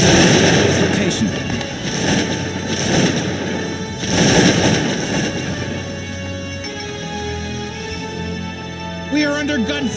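Cossacks 2 battle between Poland and Russia: volleys of musket gunfire crackle in dense bursts at near range, rising and falling in waves, with a voice speaking over the closing moments.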